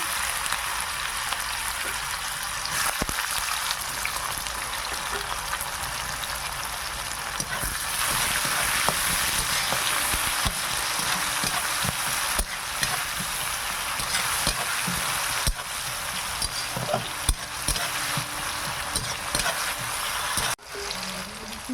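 Cloves, cinnamon, two dried red chillies and onion crackle and sizzle in hot oil in a village kitchen, a loud, constant hiss sustained close by with occasional clicks and scrapes and a brief dip near the end.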